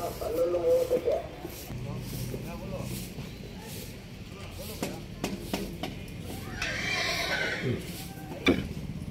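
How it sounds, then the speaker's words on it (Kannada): A white male Indian-breed racehorse neighs and whinnies in a loud, drawn-out call near the start, with a few more calls later and people talking in the background throughout. "ಇದು ಗಂಡು ಕುದುರೆ."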